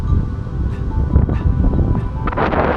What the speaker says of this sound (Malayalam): ഇവിടെ കാറ്റ് കുറച്ച് കൂടുതലായിരുന്നു എന്നാണ് എനിക്ക് തോന്നിയത്